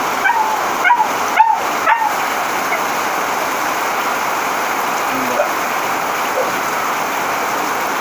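Floodwater rushes through a flooded neighborhood during heavy rain, a steady broad hiss and roar throughout, with a few short knocks and faint barks near the start.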